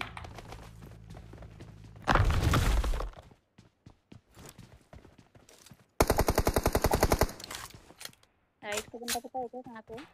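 Automatic weapon fire in the PUBG Mobile game, in Runic Power mode: loud, fast bursts of shots break out twice amid a din of other game noise, and a voice talks briefly near the end.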